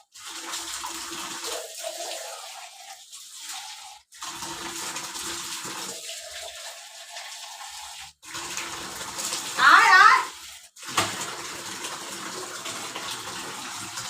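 Water runs steadily from a tap or bath spout while a pet named Dodo is bathed, a continuous close gush with brief pauses and one louder splashing burst, faint voices in the background.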